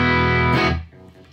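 A short burst of heavily distorted electric guitar through a loud amp, a thick sustained chord that cuts off and rings out briefly.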